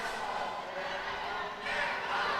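Crowd noise from the stands at a Kings World Cup football match, a steady broad roar with no distinct shouts, holding level and swelling slightly louder near the end.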